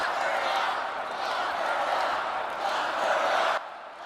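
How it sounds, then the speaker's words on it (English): A political convention crowd chants in unison, a loud, sustained roar of many voices that rises and falls, then cuts off sharply near the end. "They're chanting, "Lock her up.""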